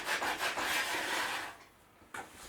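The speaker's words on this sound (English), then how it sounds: "With a rasp I make some coarse tracks in the epoxy." A hand rasp scrapes coarse grooves into hardened epoxy on a wooden strip, with close rough strokes that fade to near quiet before one final short scrape.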